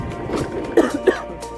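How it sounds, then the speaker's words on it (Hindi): A few short coughs from someone with a cold in a chilly mountain village, two sharp throat-clearing bursts close by over a low vehicle rumble. "देखो खांसी और हो गई है"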